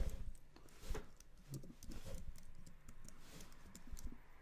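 Code being typed on a computer keyboard, quiet close-up clicking of keys in uneven quick runs for several seconds, with no one speaking.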